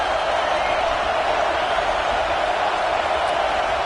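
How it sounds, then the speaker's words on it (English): A dense, steady roar from a stadium crowd in the College Football 25 video game, loud and unbroken for about four seconds with no distinct peaks. "Listen to the crowd energy here in the early going"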